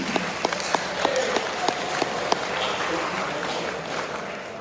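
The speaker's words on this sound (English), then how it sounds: "Give yourself a round of applause." A high school audience at a senior meeting applauds its graduating seniors, opening with a few loud, spaced individual claps that quickly merge into a denser wash of clapping from the crowd.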